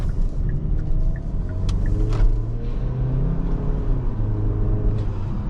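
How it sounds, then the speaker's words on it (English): A 2020 Kia Sportage SX accelerating on the road, heard from inside as a steady, loud engine and road rumble with a continuous low drone and tire noise throughout. "the Sportage just rockets up to speed instantly"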